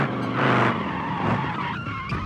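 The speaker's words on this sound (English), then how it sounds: "I'm gonna try doing just a simple donut here." Tires squeal and skid steadily as a car spins a donut in a driving video game, with the engine droning underneath, loud and continuous without a break.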